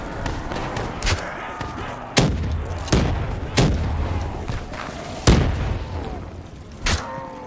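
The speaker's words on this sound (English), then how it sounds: "I flashbanged myself there." Gunfire and blasts from the Call of Duty Black Ops 3 campaign crack out in sharp, loud bursts spaced a second or so apart, one of them a flashbang grenade, with a low rumbling game soundtrack underneath.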